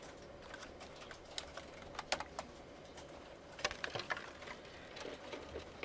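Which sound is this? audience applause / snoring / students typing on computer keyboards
students typing on computer keyboards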